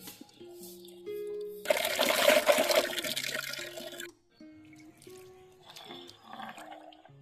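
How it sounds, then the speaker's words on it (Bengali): Jujube fruits are washed in water with a burst of splashing and sloshing for a couple of seconds, then quieter trickles and drips, amid light background noise. "ফার্স্টে ফুলগুলো একটু ভালো করে ধুয়ে নি।"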